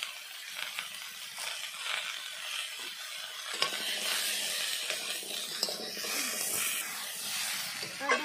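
Spiced vegetable stems frying in a pan with a continuous hissing sizzle that grows denser partway through, punctuated by a few faint scrapes and pops, close up with no talk.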